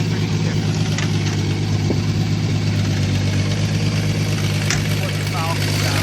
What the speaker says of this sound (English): What the Falcon sounds like with that exhaust